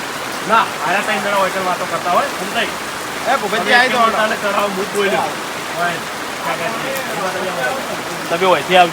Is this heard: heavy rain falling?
yes